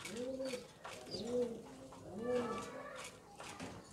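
Yellow-tail and silver-tail check pigeons cooing in a loft on a pigeon farm in Faisalabad: three or four rounded, repeated coos close by, with faint background chatter and soft chirps.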